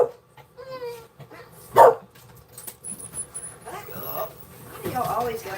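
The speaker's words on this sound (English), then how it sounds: "the dogs are just gonna go crazy" Indoor dogs bark and yip in short excited bursts, with a whimper and one loud close bark, mixed with people talking during a live jewelry sale.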